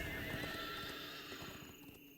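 A horse in Dungeons and Dragons Online gives a loud, close whinny over quick clip-clopping hooves, filling the short moment with no talk.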